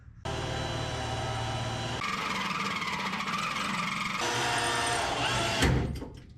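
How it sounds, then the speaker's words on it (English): A power drill with a pilot bit boring into the metal of a 1955 Ford F100, a loud continuous whirring grind held for several seconds before a sharp burst and a quick wind-down. "I'm gonna drill a hole in that"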